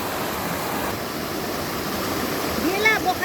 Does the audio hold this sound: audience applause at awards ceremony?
no